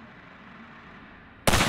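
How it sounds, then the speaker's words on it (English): A single sharp rifle shot in Half-Life 2 Episode 1, fired at a ladder latch, cracks out loud and sudden after a stretch of low, quiet ambience. "Let me shoot out the latch"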